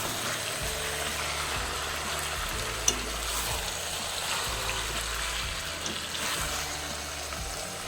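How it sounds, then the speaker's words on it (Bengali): Chicken pieces sizzling and frying in a pan with spice masala for a chicken curry, a continuous loud crackling hiss with stirring scrapes throughout, no talking. "মশলার ওপরে তো মাংস দিয়ে দিয়েছি, এবার ভালোভাবে কষিয়ে নেব মাংসটাকে দিয়ে।"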